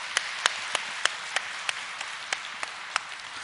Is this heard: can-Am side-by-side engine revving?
no